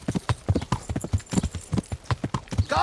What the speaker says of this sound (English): Here's my horsey.